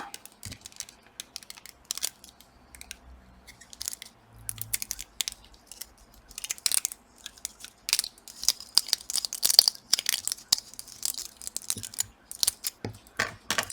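A small piece of tape being cut and handled during a CMOS battery replacement: a long stretch of close, quiet snips, crinkles and sticky tearing clicks, growing busier toward the end, with no talking.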